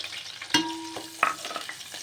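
Sliced onions go into hot oil with green chillies for a tomato paneer curry, frying with a near, crackling sizzle. Two distinct utensil clanks ring out while the hiss carries on steadily, and nobody speaks.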